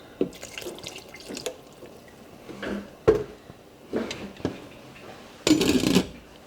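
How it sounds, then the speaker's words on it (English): Intermittent splashes and trickles of water pour in short bursts, ending with a louder, steadier stream into a cooking pot of khichdi. "We're going to add a little bit more water now."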